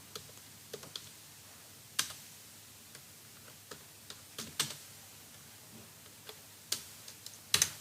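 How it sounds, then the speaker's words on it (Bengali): Sparse keystrokes on a computer keyboard while entering data in Excel, sharp isolated clicks at irregular intervals, close and clear over quiet room tone. "যেমন ধরেন এখন আমি টাইপ করে দিলাম"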